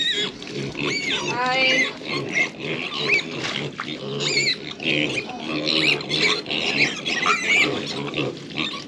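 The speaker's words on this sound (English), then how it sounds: "So 3 more to Ruby's house for them to have for feeder piglets." Young feeder piglets on a homestead oink and squeal close by in a busy, overlapping chorus of grunts and high-pitched squeals.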